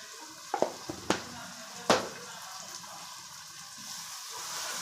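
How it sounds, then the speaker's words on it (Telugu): Chili powder fries on low heat in a pan for fish curry, with a soft continuous sizzle broken by several sharp clinks and scrapes of a spoon stirring early on, then a steadier hiss. "సిమ్ములో పెట్టుకొని కారం కొద్దిగా వేగాల."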